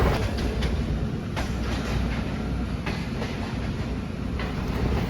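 Awam Express passenger train at a railway station on the Rawalpindi to Peshawar route, heard as a loud, steady rumble with scattered metallic clicks and knocks throughout, no talking.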